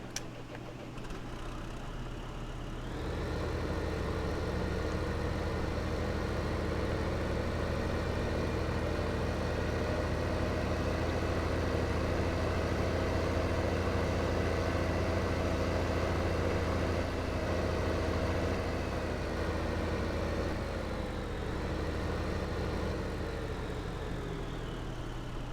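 A tractor engine in Farming Simulator 15 idles with a steady low drone and faint ticking, stepping up slightly in level after a few seconds and holding evenly for the rest.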